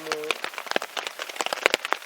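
Rain patters steadily on a torn hiking tarp at a mountain camp in the Jura or Haute-Savoie, a dense close crackle of drops with sharper individual hits, a brief tonal hum at the start.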